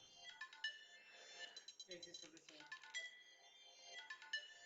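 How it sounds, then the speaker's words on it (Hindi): A phone plays a melodic, high-pitched ringtone in repeating patterns, fairly loud and near. A voice talks over the middle of it. "एक मिनट रुक जाओ बाबू, एक फोन अटेंड कर लेने दो।"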